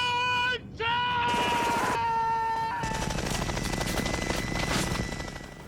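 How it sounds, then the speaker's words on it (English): Automatic gunfire from a heavy multi-barrel gun firing many bullets on a film set, a loud sustained rattling burst that runs for several seconds after a short tonal whine, with music-like tones and some voice mixed in. "Shooting those many bullets coming through that gun"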